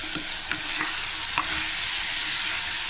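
A spoon stirs chicken curry with tamarind leaves as it fries in a pan, giving a steady close sizzle with a few soft scraping strokes near the start and no talk.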